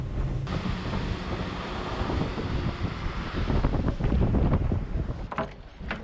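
Strong, gusty wind buffets an outdoor spot near water during a Finnish hunting trip, a loud, rough roar surging and easing, with faint clattering toward the end.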